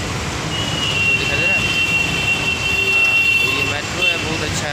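A Delhi metro train pulls into Anand Vihar station with a steady rumble and a sustained high whine of motors and wheels, loud and continuous throughout, with station ambience around it.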